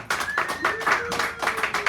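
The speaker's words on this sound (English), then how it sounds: "Give him a nice round of applause" Small cafe audience at a poetry hour clapping, a handful of distinct, close claps with audible individual hits and a faint tone underneath.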